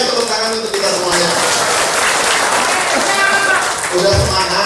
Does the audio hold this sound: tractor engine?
no